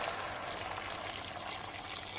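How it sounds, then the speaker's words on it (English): Boiling water is poured from a kettle over chopped cauliflower, leek and crumbled stock cubes, giving a steady, close, continuous splashing gush that runs unbroken throughout with no talk. "What I do is crumble over a couple of stock cubes and then pour over boiling water."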